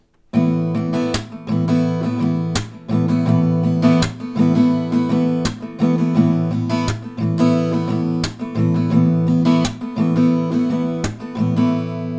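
Strummed acoustic guitar chords in a steady, repeating rhythm with sharp percussive hits landing regularly on the beat, played alone without talking.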